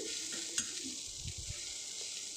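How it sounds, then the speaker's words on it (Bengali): Onions fry in hot oil in a pan while being stirred, producing a continuous soft sizzle with a few scraping stirs and light taps, fairly quiet and with no voices. "তেলের মধ্যে দিয়ে ভালোভাবে আমি এটাকে ভেজে নেব ভালোভাবে নেড়ে চেড়ে পেঁয়াজটাকে ভেজে নিচ্ছি"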